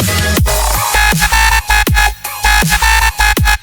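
Gritty Serum synth bass with an LFO modulating the sub and oscillator levels, giving a loud pulsing wobble with rapid choppy drops and swoops over a constant low sub, played alone.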